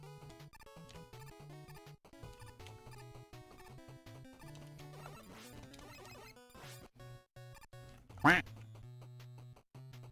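A duck quack sound effect bursts out once, loud and brief, over chiptune music from Mega Man 3 during a livestream, the rest of the stretch being the looping game tune.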